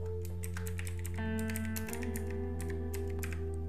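Quick, crisp keystrokes on a computer keyboard as a virtual machine name is typed, a rapid irregular patter heard close over a steady electronic hum, with no talking.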